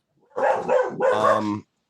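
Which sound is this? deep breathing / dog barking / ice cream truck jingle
dog barking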